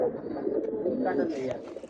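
An old khaki pigeon's low burbling coo sounds close by, brief and continuous, with a voice faintly mixed in.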